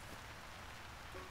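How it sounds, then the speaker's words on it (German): Steady rain falls in a city park in the video game Unravel 2, a dense even hiss of drops on surfaces throughout, fairly faint and uninterrupted. "es regnet ein bisschen."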